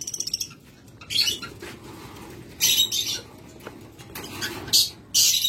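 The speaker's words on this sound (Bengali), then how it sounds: "এটাও কিন্তু রিং লাভবার্ড অপালাইন" Opaline ring lovebirds in a cage give loud, sharp squawks and chirps in repeated bursts close by, with quieter chatter and a voice talking in between.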